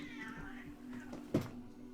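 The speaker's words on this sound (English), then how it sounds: "Oh my gosh, the cats are in a mood." A cat meows faintly indoors against a low steady hum, one drawn-out call followed by a short sharp knock or thump.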